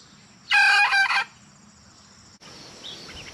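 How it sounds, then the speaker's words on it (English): A rooster gives one loud, close crow lasting under a second, followed by quiet outdoor background noise. "And that's the one that usually crows in the morning, Crazy Face."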